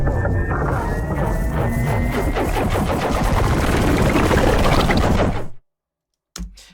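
Dense, loud animation transition effect that builds in energy, with crackling rapid bursts and a rising tone layered over a thick low rumble, cutting off abruptly into silence before a brief low thump at the end.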